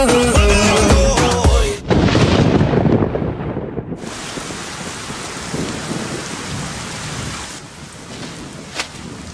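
Heavy rain pours down with thunder rumbling through a storm, loud and continuous, the downpour holding steady throughout.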